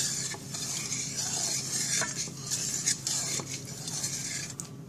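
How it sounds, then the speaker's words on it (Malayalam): Salt being stirred into a banana chip mixture in a cooking vessel, a steady scraping and swishing stir with faint sizzling underneath, continuous and close, no voices. "ആവശ്യത്തിനുള്ള ഉപ്പ് ചേർത്ത് നന്നായി ഇളക്കി യോജിപ്പിച്ചെടുക്കണം"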